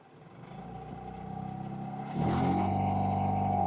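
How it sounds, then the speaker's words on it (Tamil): Mahindra Supro commercial vehicle engine starting and idling with a slight vibration, a steady close rumble that grows louder partway through and holds a constant hum. "ஸ்டார்ட் ஆகும்போது பார்த்தீங்க அப்படின்னா ஒரு சின்ன வைப்ரேஷனோட தான் வந்து ஸ்டார்ட் ஆகுது."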